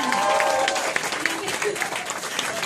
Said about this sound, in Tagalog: pinapalakpak ang Apply Joseph Lim!